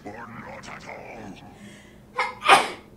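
Sneeze in a RIFT gameplay session, a quick sharp burst near the end, preceded by a short intake, following quiet speech earlier.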